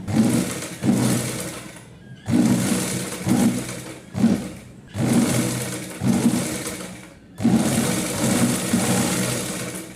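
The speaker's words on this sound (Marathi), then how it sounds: "हा आता मी पदरचा भाग पायाच्या उजव्या बाजूला शिवून येत आहे" A sewing machine stitches the pallu of a nauvari saree in several steady bursts of whirring, each run stopping and starting again with short pauses between.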